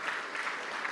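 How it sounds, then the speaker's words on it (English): A conference audience at a summit in Lisbon claps, a dense, steady wash of many hands heard from a distance that fills the whole short moment. "I still want to give a big clap out."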